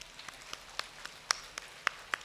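Sparse, irregular taps and snaps of many hands in an audience at a speech mimicking raindrops, scattered soft clicks with brief silence between them.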